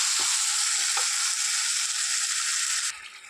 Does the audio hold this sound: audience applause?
no